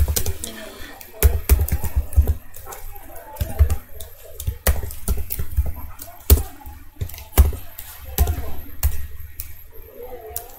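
Computer keyboard typing as code is written, a dense run of quick clicks and sharper keystrokes that comes close and fairly loud, with some faint background noise and no clear talk.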